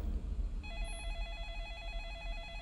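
Telephone ringing in the 2002 horror film The Ring, a steady electronic warbling ring that starts after a low rumbling score and repeats continuously, fairly loud and close, with no talk over it.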